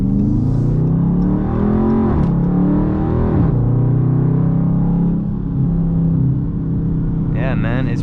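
Dodge Charger Scat Pack V8 engine revving close up after a paddle-shift downshift into first gear, a steady rumbling drone rising and falling in pitch with a brief surge, while someone talks over it.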